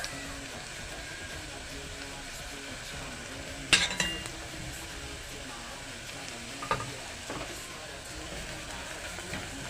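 Onions frying in a pan with pounded garlic give a quiet, soft sizzle, broken by a few sharp clinks of a utensil against the pan as the mixture is stirred.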